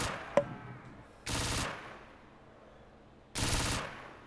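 Two short bursts of rapid automatic gunfire in a Call of Duty zombies match, with a quiet gap between them and a faint click just before the first.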